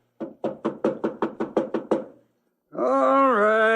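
A fist pounds on a pawnbroker's shop door in a late-night old-time radio drama: nine loud, evenly spaced knocks, then a pause before a drawn-out voiced groan.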